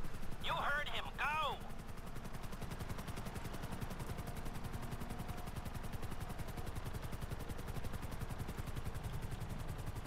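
Helicopter rotor chatter with gunfire in Grand Theft Auto V, a steady rapid thumping that continues for the whole stretch, with a brief burst of higher warbling sounds near the start.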